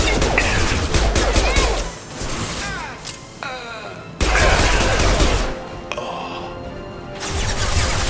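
Gunfire in the Mass Effect 2 video game: repeated loud bursts of shots and impacts with whooshing effects, with a brief quieter gap midway before the firing resumes.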